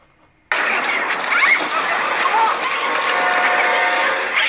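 A car engine starts after half a second of silence and keeps running steadily and fairly loud to the end, with no talk.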